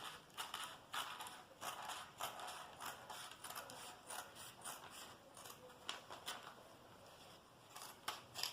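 Scissors cut through fabric for a six-piece top with cold shoulder sleeves: repeated crisp snipping and crunching strokes in an irregular rhythm, close and fairly quiet, with no voices.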